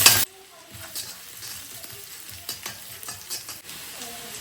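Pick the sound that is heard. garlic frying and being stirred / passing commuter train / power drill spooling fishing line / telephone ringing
garlic frying and being stirred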